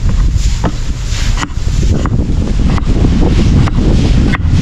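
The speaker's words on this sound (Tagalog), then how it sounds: "Sarap ng hangin dito." Strong wind buffets the microphone during a fast boat ride, a loud, continuous roar with gusty swells and occasional sharper rustles.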